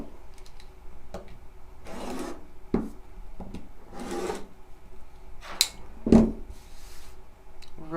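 A rotary cutter runs along a ruler, trimming a fabric quilt block, in several separate rasping strokes a second or so long, close by, with light taps and handling noises between them.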